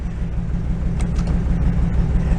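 Old bucket truck engine idling with a misfire, a loud, close, uneven low rumble with a rough pulsing beat and no talking.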